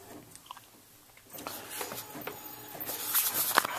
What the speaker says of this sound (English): I'm printing out some textile patterns I've been working on.